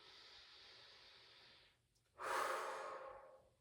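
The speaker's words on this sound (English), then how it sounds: "Big breath in and out." A long, soft inhale followed after a short pause by a louder, airy exhale, close and breathy, taken during a restorative mindful movement stretching session, with no talking.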